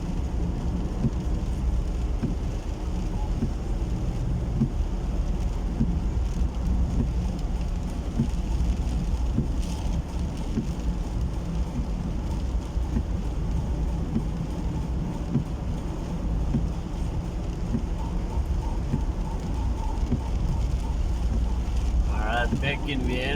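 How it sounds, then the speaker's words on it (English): Heavy rain drums steadily on a car cruising home toward Vienna, a constant dense wash of noise mixed with road rumble that barely changes throughout. "It started raining again."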